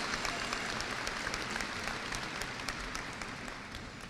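A large crowd applauds steadily at a 2017 high school graduation ceremony, the dense clapping sustained and even throughout, heard at a moderate distance with no talk over it.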